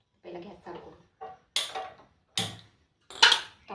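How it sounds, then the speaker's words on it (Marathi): A home kitchen gas stove being lit: someone speaks briefly, then three sharp, bright igniter clicks sound at roughly even intervals, close by and fairly loud, with short pauses between them. "चला पहिला गॅस चालू करू,"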